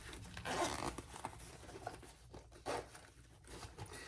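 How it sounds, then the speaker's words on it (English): A zipper on a fabric wristlet's quilted zipper pocket is pulled in a few short, quick rasping strokes with brief pauses between them, close and fairly quiet, with no voices. "on the other side, you have a nice zipper pocket"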